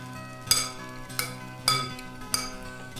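Sautéed courgettes tossed with lemon juice and basil in a frying pan, a spoon clinking sharply against the pan four times at uneven intervals, close and clear over a faint background hum.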